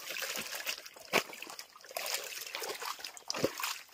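Spring water on a farm trickles and splashes steadily and close by, with small sloshes and drips, as feet are washed under a thin stream.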